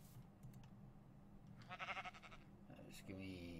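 Sheep in the video game Minecraft bleat faintly in a few short calls, mixed with keyboard typing and someone talking.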